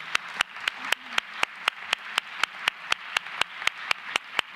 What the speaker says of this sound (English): give another round of applause to our dear panelists